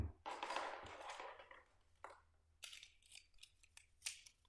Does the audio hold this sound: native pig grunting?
no